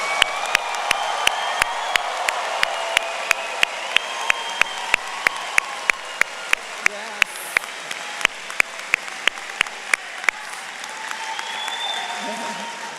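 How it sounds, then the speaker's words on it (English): An audience at a College of Education graduation applauds and cheers, steady crowd clapping with scattered whoops, punctuated by a string of sharp rhythmic clicks or beats throughout. "join me in giving a big round of applause and a big cheer for our class of 2024"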